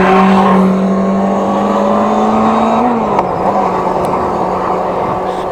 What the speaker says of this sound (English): Speeding motorbike.